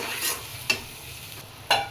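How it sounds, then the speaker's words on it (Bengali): Shrimp fry in spiced masala in a pan with a low sizzle, broken by a few quick stirring scrapes spaced about a second apart. "এখন এই যে চিংড়ি মাছ দিব।"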